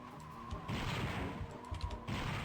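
Thermal detonators explode in the video game Star Wars: Dark Forces, a burst of blasts and crashes heard fairly faintly over a couple of seconds with no talk.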